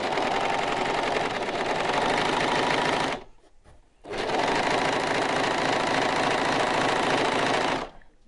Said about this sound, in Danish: jeg starter så lige med at overlocke den i den ene side bare